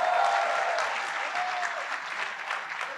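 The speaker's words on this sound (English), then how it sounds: "Give him a round of applause" An audience applauds steadily for a guest, a Mufti joining an interview event, the dense clapping filling the room and slowly thinning over three seconds, with a brief faint whistle-like tone riding above it.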